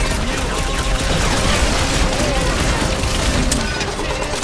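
Rocket's gun in Marvel's Guardians of the Galaxy video game fires in a dense, continuous barrage of loud shots and booms, with characters shouting over the din throughout.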